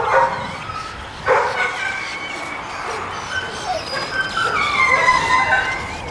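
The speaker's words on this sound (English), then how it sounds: "there's a few more dogs out here." A chorus of dogs at an animal shelter in St. Bernard Parish, Louisiana, barks, yips and whimpers continuously over a dense, echoing background, with high whining cries rising and falling throughout.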